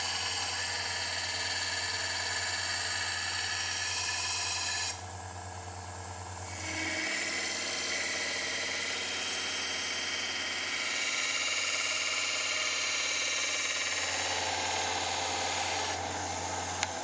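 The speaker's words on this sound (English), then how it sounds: "pulling the edge across the mini belt sander to grind a crisp, uniform secondary bevel and establish the final apex" A mini belt sander grinds the secondary bevel of a forged Damascus knife made from car shock absorbers: a steady motor hum and abrasive whir, close and loud, briefly shifting in tone midway with no speech.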